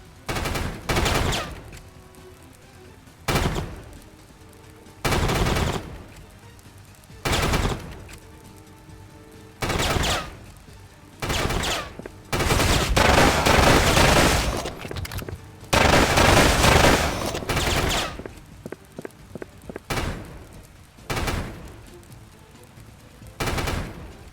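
Rapid bursts of gunfire from the video game Pursuit Force, loud repeated volleys and short automatic strings spaced through the scene, with one long sustained barrage in the middle and no talking.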